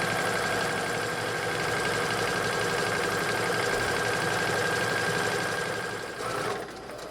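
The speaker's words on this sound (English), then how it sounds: "I'm going to lift that presser foot and simply turn, pivot right there, and begin sewing again" A sewing machine straight-stitches a baby sling with a loud, continuous motor hum and dense needle chatter. It runs steadily and close by, then winds down in the final second. No voices are heard.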